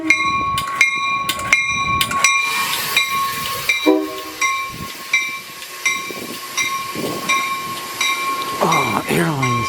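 A train passes with rhythmic clacking of wheels over rail joints, a sustained tonal hum, and a brief horn-like blast, fairly close and loud.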